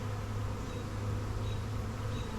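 Bees buzz steadily around an open hive where a large batch has just been dumped in, a constant low droning hum that stays even and close throughout.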